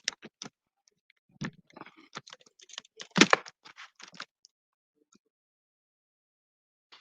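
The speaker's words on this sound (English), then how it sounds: "I'm typing it just in case" Keys tapped on a computer keyboard in a quiet home at night, a few short bursts of irregular clicks, fairly close, with long silent gaps and no talking.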